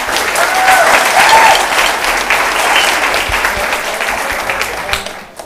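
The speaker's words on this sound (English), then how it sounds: "give the Lord a round of applause" Church congregation at a revival service gives a loud, sustained round of applause that swells and then fades toward the end, with a few cheers mixed in.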